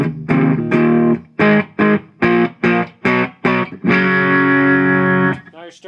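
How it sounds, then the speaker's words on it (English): Overdriven electric guitar through a Korg Pandora PX5D modeling a cranked Vox AC15 with power tube distortion, gritty sustained chords broken by a run of short chopped stabs, then a long ringing chord, loud and alone. "Now you're starting to hear the amp sing, a little bit of power tube distortion."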